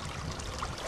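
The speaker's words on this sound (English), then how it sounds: "This is the Eyes Brook," Water of the Eyes Brook, a small stream running near a railway line, trickles and gurgles steadily at close range, a continuous babbling flow with no voices.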